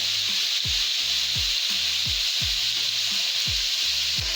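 Crushed pimento is stirred into a pot of vegetable stew, giving a steady, even sizzle that runs throughout, with a low repeated scraping rhythm beneath it and no talk.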